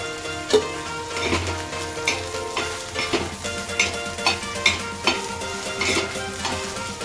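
Finely chopped onion fries in oil in a pan for a Marathi amti masala, a steady sizzle broken by regular scraping clinks as a spoon stirs it.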